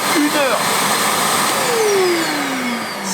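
A vacuum cleaner runs off an EcoFlow Delta portable power station, drawing about 1195 watts, with a loud, steady motor whine throughout and someone talking over it.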